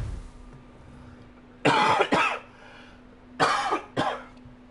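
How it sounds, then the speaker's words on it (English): A person coughs in two bursts of two harsh coughs each, close and loud against a quiet background hum, with no talk. "Pardon me, I don't know where all this coughing came from."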